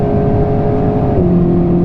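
Alpine A110S engine droning loud and close from inside the moving car, a steady hum with one shift-like drop in pitch midway, no talking.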